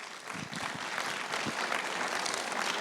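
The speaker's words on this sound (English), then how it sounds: "Round of applause, please." Applause from the audience at a property awards ceremony, starting with a few distinct claps and quickly swelling into steady, fairly close clapping from many hands that carries on to the end.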